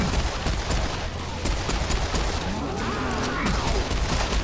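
A gun in Serious Sam 4 fires a dense, rapid stream of shots over a loud, chaotic wash of game noise, close and sustained for the whole stretch.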